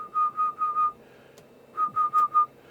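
A person whistles into the microphone to test a Kenwood TL922A amplifier on SSB. The whistle is a steady-pitched, clear tone in two bursts of four short toots, with a brief quiet gap between them.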